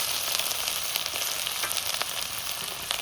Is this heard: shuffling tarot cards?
no